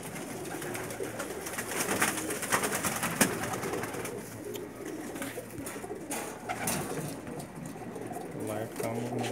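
Pigeons coo in repeated low soft calls against background chatter and ambient noise, with people talking nearby.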